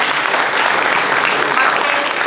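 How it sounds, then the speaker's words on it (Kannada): An audience claps steadily throughout in a dense, continuous round of applause at a function honouring people who help children afford school fees; no voices stand out. "ದೊಡ್ಡ ಚಪ್ಪಾಳೆ ಬರಬೇಕು."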